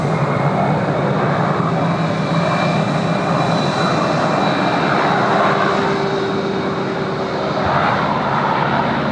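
Singapore Airlines airliner in Star Alliance livery pushing back at Sydney Airport, a loud steady engine roar and whine filling the scene with no talk.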